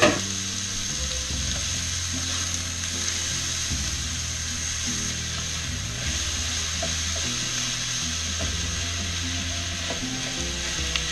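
Onions sizzle and fry steadily in olive oil in a pan while grandmother's Italian spaghetti sauce is being made, a continuous close crackle with occasional stirring clinks.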